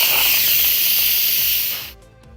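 An Instant Pot releases pressure through its vent while a chocolate lava cake cooks inside, a loud, close, steady steam hiss that fades and cuts off near the end.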